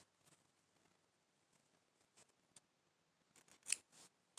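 Scissors snip the yarn end of a crocheted worry worm, a few sharp close cuts near the end after faint handling sounds in an otherwise quiet room.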